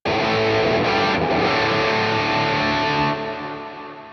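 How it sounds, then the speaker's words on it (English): An electric guitar runs through a NUX Amp Academy rig with a tube screamer overdrive, delay and plate reverb, sustaining a thick, loud distorted chord that rings out and slowly fades into ambient reverb, with no voices. "this tube screamer engaged. Here I'm again using my own delay and reverb in combination with the plate from Amp Academy"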